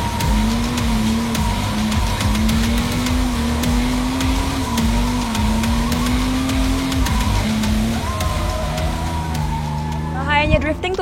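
A car drifting with sustained loud tire squeal over a steady engine drone, continuous throughout, with speech mixed in and a brief burst of higher squealing near the end.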